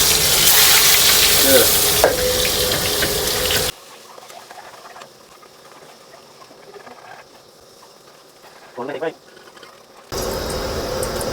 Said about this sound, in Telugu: గుడ్లు వేపుతున్నారండి